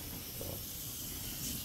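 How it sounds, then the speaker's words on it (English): A continuous, faint hiss of steam escaping from a pot of Jamaican-style beans cooking, steady and unbroken, with no voices. "The steam just coming out."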